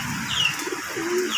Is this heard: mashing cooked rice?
no